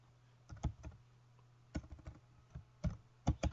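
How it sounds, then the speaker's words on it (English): Text being typed on a computer keyboard, heard as irregular bursts of crisp key clicks separated by short pauses, close up and fairly quiet, with a faint steady hum underneath. "Then you just type in your text."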